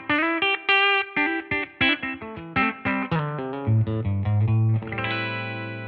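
An electric guitar played through a ToneX pedal running a model of an original 1965 Fender Deluxe Reverb amp rings out as a clean melodic line of plucked notes with reverb, ending on a sustained chord.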